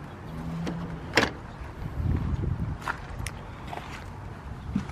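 Plastic bracket popped out of a car door panel by hand, a sharp snap followed by scraping and rustling handling noises and a few lighter clicks, close and alone without talk.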